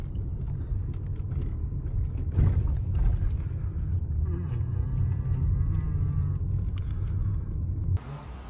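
Lamborghini modified for off-road use creeping into a garage, a deep steady engine rumble at low speed, close and continuous, briefly rising in the middle before cutting down near the end.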